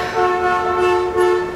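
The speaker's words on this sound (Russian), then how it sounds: "Видите, проехала машина, вот в это же время он постоянно проезжает и кому-то особым сигналом бибикает" A passing car sounds a sustained, tonal horn signal that holds for over a second with a brief dip and swell, loud and close, with no talk over it.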